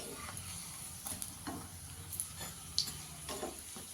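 Aloo parotta flatbread frying in a pan gives a faint, steady sizzle with soft scattered crackles and occasional light scraping or stirring clicks.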